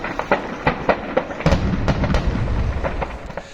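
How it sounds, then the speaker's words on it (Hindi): A rapid string of sharp pops and cracks, like bursting firecrackers, followed by deeper rumbling booms, loud and continuous, from explosions at a Pakistan Army ammunition depot in Sialkot. "ये जो पटाखे शटाखे जो फूट रहे हैं, ये सारे उस असले के डिपो के"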